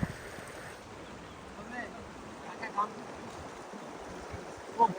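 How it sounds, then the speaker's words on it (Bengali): Stream current flowing below a waterfall at Tanguar Haor, a steady broadband rush of moving water with a few faint splashes and light knocks. "তো বেসিক্যালি এই হলো ঝর্ণার স্রোত"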